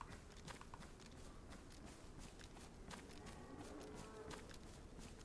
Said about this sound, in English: Two more cows.